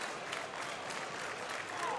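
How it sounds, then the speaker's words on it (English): A wrestling crowd at the Vancouver Convention Center claps and cheers in a dense, even wash of applause, with a commentator's voice over it. "Crowd getting into this one, cheering on both men."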